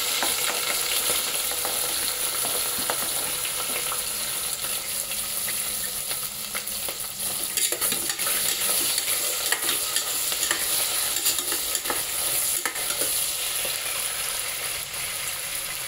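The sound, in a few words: onions and carrots frying and being stirred in a pan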